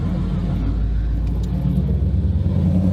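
Dodge Charger R/T exhaust giving a deep, steady, loud rumble at close range, with a person speaking briefly over the engine.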